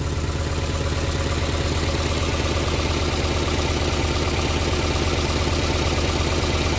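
The engine of a barn-find 1959 Morris Minor Traveller woody station wagon, running low on gas, idles steadily and loudly, with a fast, even low chugging rhythm that runs throughout, with no voices.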